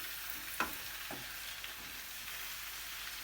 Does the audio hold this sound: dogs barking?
no